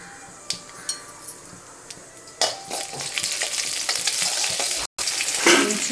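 Split urad dal dry-roasts in a pan for a thuvaiyal, with scattered light clinks and scrapes at first, then a louder, fuller sizzling rush as it is stirred, close by with no talk.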